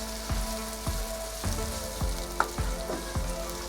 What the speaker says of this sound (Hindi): अब इसको हम 1 मिनट के लिए हल्का सा भूनेंगे लहसुन अदरक को